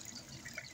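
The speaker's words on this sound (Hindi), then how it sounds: "पानी वेस्ट हो रहा है, इसको बंद कर देते हैं।" Tap water runs in a steady, faint stream with light splashing and dripping, continuous and fairly close, with no talk over it.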